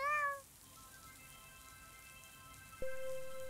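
A cartoonish cat in the Garden Paws video game meows, a short bright harmonic call at the start, followed by soft game chimes and tones with no talking.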